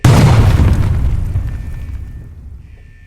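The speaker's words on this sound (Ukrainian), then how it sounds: "лише за 10 секунд стався вибух" One loud, deep reactor explosion at the Chernobyl nuclear plant booms close by, then its rumble slowly fades away over a few seconds.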